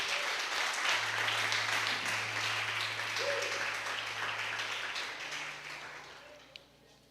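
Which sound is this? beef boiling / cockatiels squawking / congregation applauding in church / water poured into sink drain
congregation applauding in church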